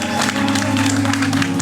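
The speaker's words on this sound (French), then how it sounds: "Nous acclamons pour la gloire de notre Dieu." A church congregation applauding, a dense steady wash of clapping heard over sustained musical tones for a short moment.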